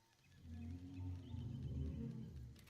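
A Diplodocus roar in Dinosaur Simulator is a quiet, deep, drawn-out groaning call with a wavering tone that swells over about two seconds and then tails off, alone with no voices.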